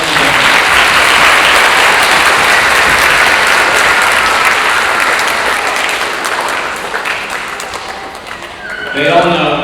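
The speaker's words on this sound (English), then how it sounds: "So let's give Elizabeth O one more round of applause." A school spring concert audience gives a loud, sustained round of applause for a solo student performer, the dense clapping gradually thinning near the end as a voice begins talking.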